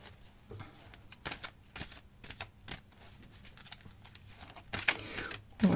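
A deck of cards being shuffled and cut, with repeated quick riffling flutters and soft taps, close and quiet.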